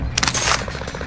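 An MP40 submachine gun in a Rebirth Island shooter game rips off a short, loud, rapid burst of shots at close range, the rounds chattering in quick succession.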